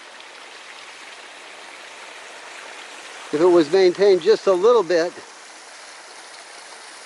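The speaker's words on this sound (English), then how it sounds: "that's a really nice flow of water and a great resource" A pretty creek runs across a rural property, making a steady, close rushing hiss that goes on throughout while someone talks briefly over it.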